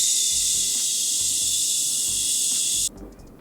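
A long, steady hissing exhale held evenly for nearly three seconds, loud and close, the kind of controlled breath stream used in singing breath training, then cutting off abruptly.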